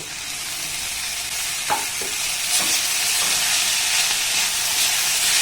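Grated paneer and vegetables stir-fried in a pan, a loud, steady sizzle close by with a few knocks and scrapes from stirring early on, unbroken, no voices.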